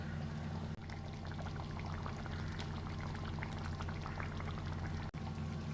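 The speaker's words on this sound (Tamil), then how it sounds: "இங்கே பாருங்கள், குருமா நல்லா கொச்சி வந்துடுது." Kurma curry bubbles in a pan, a continuous soft popping and simmering texture that stays low and even throughout, with no voices.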